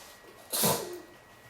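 A single quick sneeze, sharp and breathy, bursts out close by against a quiet background.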